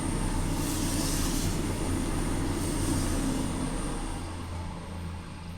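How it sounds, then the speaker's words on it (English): A train passes during a tabletop roleplaying game session, its low steady rumble and rolling noise filling the background continuously at a fairly loud level, broad and unchanging before easing slightly toward the end. "Give me a moment. There's a train."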